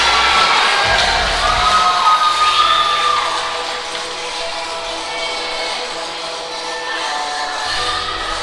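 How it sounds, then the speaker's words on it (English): At a pro jiu-jitsu event, the crowd cheers and shouts after a match, loud and sustained with whoops near the start, then fading slightly over several seconds. "They're going to get a pop here from the crowd."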